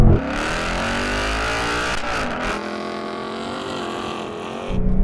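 Two cars accelerating hard side by side in a drag race, a Mustang V8 and a BMW M2, their engines roaring loudly and steadily with rising gear notes across the run and no talk over them.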